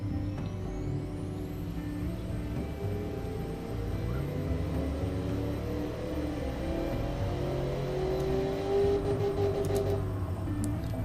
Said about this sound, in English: And we can now run the engine